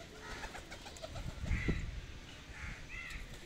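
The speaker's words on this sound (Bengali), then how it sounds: "ওই জন্য সব পায়রা চলে এসছে একসাথে" Several pigeons gather at a water dish to bathe in cold weather, with soft cooing and wing flutters over a low rumble of outdoor background noise, and a louder flurry of flapping near the middle.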